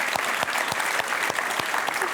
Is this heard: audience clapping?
yes